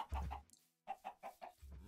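Minecraft chickens cluck in short, quiet bursts, a pair of clucks followed by a pause and then a quick run of four, faint and close with no talk.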